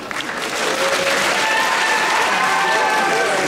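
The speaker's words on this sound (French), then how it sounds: "on peut encore applaudir Serge" An audience at a cosplay convention applauding a participant, loud dense clapping that builds in the first half-second and then holds steady, with a few cheers mixed in.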